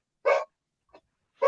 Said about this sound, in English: What's the dog think?